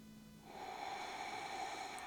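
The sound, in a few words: deep breathing during a yoga pose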